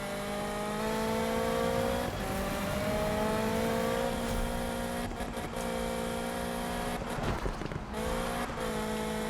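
A Golf Mk1 GTI build in Need For Speed 2015 races flat out. Its engine wails loudly and climbs through repeated gear changes, with brief dips and rises and a short tire squeal near the end.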